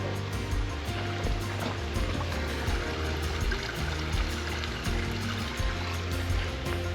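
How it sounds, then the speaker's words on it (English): A small creek trickles and babbles close by on a summer walk. The steady, splashing water flow continues throughout, with occasional soft thumps and no talking. "Nice trickling creek."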